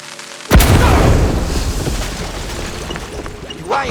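Firecrackers blast inside a wooden attic in the game Mouse P.I. For Hire: one loud, sharp boom, then a long rumbling, crackling decay, with a smaller pop near the end.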